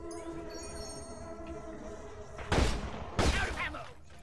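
Two loud shotgun blasts from the video game Deep Rock Galactic, about 0.7 seconds apart, ring out over a steady background of game music and ambience.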